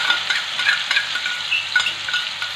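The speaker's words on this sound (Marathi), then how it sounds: "यामध्ये घालायचं आपल्याला थोडंसं जिरं आणि छान असा लसूण छान लाल रंगावरती परतून झाला" Cumin and garlic fry in hot oil for a tadka over onion-yogurt chutney, giving a bright, steady crackling sizzle with light spoon movements and no speech.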